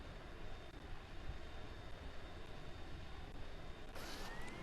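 A plane's jet engines running with reheat in Kerbal Space Program give off a steady broadband roar that holds level throughout, with a brighter hiss and a faint rising whine near the end.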